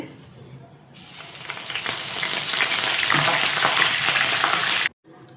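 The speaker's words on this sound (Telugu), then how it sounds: "ఇప్పుడు పచ్చిమిరపకాయలు వేపుకుందామండి." Green chillies hit hot oil for poha chivda and burst into a loud, steady sizzle that swells over a few seconds, then cuts off abruptly.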